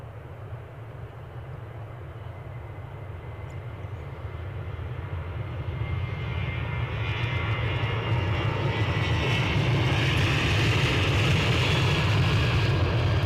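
Airplane taking off at Edinburgh airport, a steady engine roar that swells louder over several seconds as the plane accelerates down the runway, heard alone.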